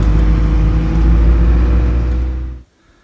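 A motorhome stuck in soft sand in Tunisia with tyre pressure still high: a loud, strained engine revs and whirs continuously for about two and a half seconds, then cuts off abruptly into near silence.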